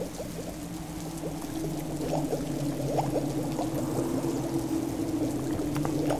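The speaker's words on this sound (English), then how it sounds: "Pour a little more wine, I was running out." Wine being poured from a bottle into a glass, a steady liquid gurgle running for several seconds over a low constant hum, fairly quiet and with no speech.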